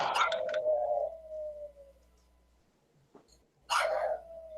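A puppy gives a burst of yips and a drawn-out whine, then falls quiet before another whining bark with a long trailing whimper, close by and fairly loud against a low background hum.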